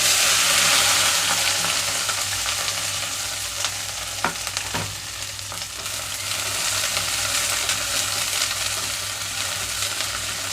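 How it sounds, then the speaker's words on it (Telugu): Okra pieces fry in hot oil in a pan, a steady loud sizzle throughout with a few brief clinks and stirring scrapes near the middle, no voices. "ఆయిల్ హీట్ అయిన వెంటనే బెండకాయ ముక్కలు వేసేసుకుంటున్నాను"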